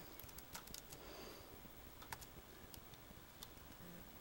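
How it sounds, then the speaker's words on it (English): Quiet, steady tapping of fingers typing on a laptop keyboard, irregular key clicks with a few sharper strokes, close by and alone. "I'm gonna type in Dell"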